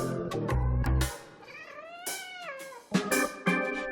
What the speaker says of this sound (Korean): 집사와는 철저히 거리를 두면서 냥이들과는 거리감 없이 잘 지내는 테리